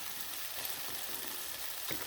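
Slit lady's finger (okra) frying in plenty of hot oil, a steady close crackling sizzle throughout with a brief louder burst near the end.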